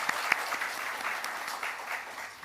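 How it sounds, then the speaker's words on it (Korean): A church congregation claps to welcome visitors, a continuous patter of many hands at moderate level with a few sharper claps standing out, and no voices over it. "우리 박수로 같이 환영하도록 하겠습니다"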